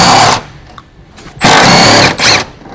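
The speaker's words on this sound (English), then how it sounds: "Using the large 13mm long socket with the large electric impact wrench, remove the rear shock absorber upper mounting" Large electric impact wrench with a 13mm long socket removing the rear shock absorber upper mounting bolt on a Ford Focus ST, heard as two loud, close whirring bursts separated by a quieter pause.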